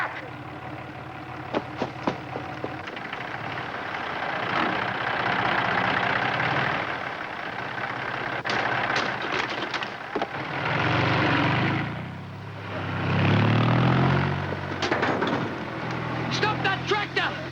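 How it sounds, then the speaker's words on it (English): A tractor engine running in a WW2 drama scene, a steady mid-loud drone that swells and revs several times, with clicks and clatter, under shouting voices. "Stop that tractor!"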